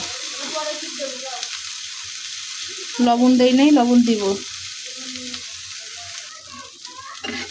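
Mustard oil sizzles and crackles steadily in a pan, with a louder stirring burst midway as ingredients are turned, while someone talks over it close by.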